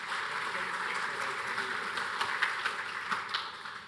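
An audience at a rail transport panel in a large hall gives a round of applause, a soft, fairly distant wash of clapping with a few sharper claps standing out near the end.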